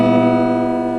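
An out-of-tune guitar strummed once, the chord ringing and sustaining loudly and close for about a second with dissonant, clashing strings, no talking.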